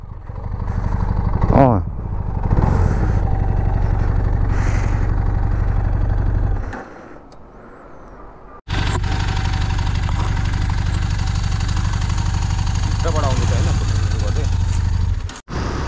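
Benelli TRK 502 motorcycle with a misfire fault, its engine running nearby in a loud, steady drone that drops away briefly near the middle and then returns at full strength, with voices in the background.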